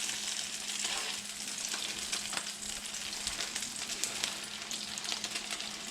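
Canned mackerel fish patties frying in a pan, giving a steady, fairly loud sizzle and crackle that runs throughout with no pauses, heard up close with no voices.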